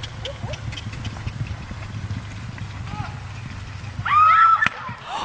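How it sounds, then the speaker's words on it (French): A wild pony lets out a sharp, loud squeal near the end among other horses, after scattered hoof clops and movement, with people talking in the background. "Avec les cris qu'elle pousse en même temps, elle fait peur aux autres chevaux!"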